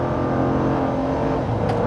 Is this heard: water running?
no